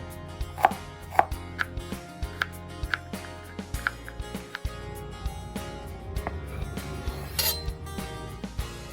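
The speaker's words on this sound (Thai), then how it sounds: "หั่นนิดนึงนะคะ จะได้โขลกง่าย" Steady knife chops on a cutting board as shallots are sliced, a regular series of crisp close taps with occasional light clinks.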